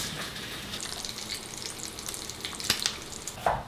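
Bacon sizzling in a pan while lunch is being cooked, a steady close hiss and crackle with a few sharper pops near the end and no talking.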